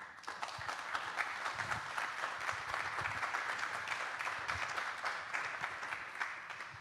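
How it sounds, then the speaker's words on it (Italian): An audience applauds at a political discussion event, a dense steady patter of many hands clapping at moderate distance, sustained throughout without talking. "io devo dire che mi unisco all'applauso"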